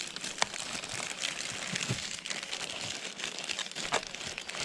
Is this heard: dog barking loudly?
no